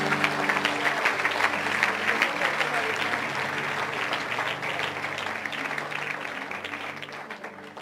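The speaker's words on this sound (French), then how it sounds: "On acclame le Seigneur." Congregation applauding the Lord at a night worship vigil, steady dense clapping throughout with crowd murmur and a voice speaking over it.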